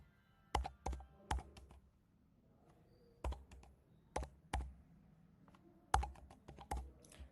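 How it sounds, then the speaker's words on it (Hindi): Fingers type an Aadhaar number on a computer keyboard in short bursts of sharp clicks, grouped in clusters with quiet pauses between them, close and clear with no talk. "यहाँ पे हम कस्टमर का आधार नंबर टाइप करेंगे।"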